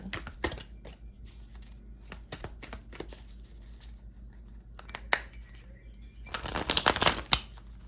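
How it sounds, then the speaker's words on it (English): Oracle cards shuffled by hand, a series of close, crisp riffling flicks and soft slaps spread over about eight seconds, ending in a denser rustling flurry, with no voices. "So we're going to shuffle and receive a message for your future."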